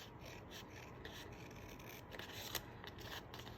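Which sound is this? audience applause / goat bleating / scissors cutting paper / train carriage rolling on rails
scissors cutting paper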